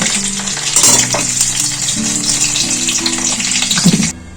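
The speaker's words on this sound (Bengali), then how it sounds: "কত সুন্দর করে আলুগুলো ভাজা হয়েছে দেখুন" Potatoes frying in hot oil for aloo dum crackle loudly and steadily while a spatula stirs and scrapes the pan, close by, ending abruptly with a quieter moment.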